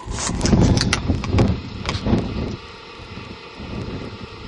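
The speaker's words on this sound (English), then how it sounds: "Hopefully, as you can tell, the wind does not want to cooperate." Wind buffets a microphone outdoors in the desert, loud rumbling gusts for the first half that ease into a lower steady rush.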